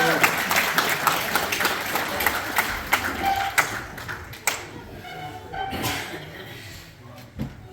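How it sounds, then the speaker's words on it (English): Wedding guests clap as a pastor comes up to speak: a loose patter of claps and taps that thins out over several seconds, with voices talking over it. "Everyone can give him a clap up here now."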